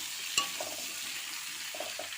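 Steady hiss of pumpkin, potato and onion frying in mustard oil and leftover prawn ghee in a wok, with one sharp tap near the start and faint scrapes of stirring.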